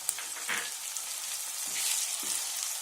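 Tomato pieces and curry leaves fry in a pan for a village-style chicken masala curry. A constant sizzling hiss is heard with a few soft stirring scrapes and no voices.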